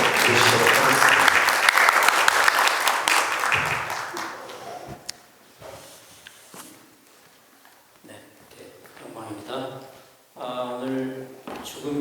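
Seminar audience in a hall applauding to welcome a professor to the podium, a dense burst of clapping that fades after a few seconds, followed by scattered shuffling and a few sounds.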